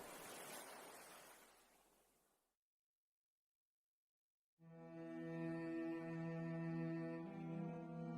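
Ocean surf washing in a steady broad hiss, loud at first and fading to near silence around the middle, then a different tonal, humming texture takes over.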